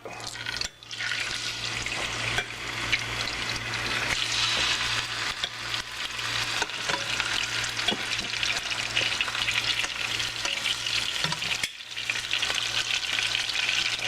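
Seasoned pork tenderloin sears in hot oil in a pan with a loud, continuous close sizzle and crackle that runs without a break, briefly interrupted by movement, with no talk.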